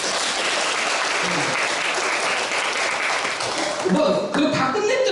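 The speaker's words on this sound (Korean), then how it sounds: "박수를 보내주세요." Audience applause at a Korean church teaching session, a dense sustained clatter of many hands filling the room, with a voice cutting in near the end.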